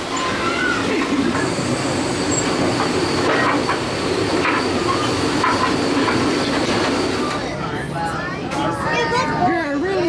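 A train rumbles and clatters along railroad tracks with a steady rolling roar and faint wheel squeals. Voices come through toward the end.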